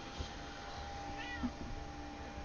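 A house cat gives a short, faint meow, barely rising above a steady background hum with no talking.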